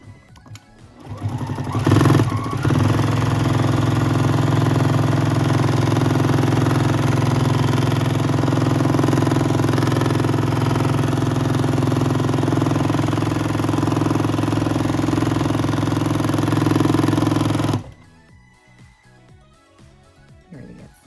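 Sewing machine stitching steadily during free motion quilting, a close, loud continuous mechanical hum and whir that starts after a short bump, runs unbroken for about fifteen seconds, then stops abruptly into quiet.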